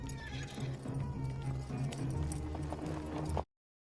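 Horse hooves clip-clop in a steady rhythm during a scene from the 1998 film Bug Buster, moderately near over a busy background, cutting off abruptly after about three and a half seconds.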